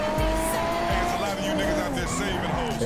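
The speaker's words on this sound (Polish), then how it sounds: "dźwięk tego auta jest wyjątkowy" A Sadgi GTR sports car in GTA roleplay, its engine tone rising and falling while the tires squeal and skid through turns, loud and continuous with a voice talking over it.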